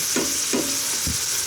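Ground beef browns in a pan with a steady, close sizzle, broken by three soft scraping strokes as it is stirred.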